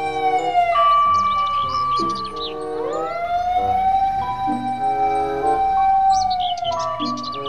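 A toy fire truck siren wails steadily with rising and falling electronic tones, loud and close, with chirpy beeps layered over it.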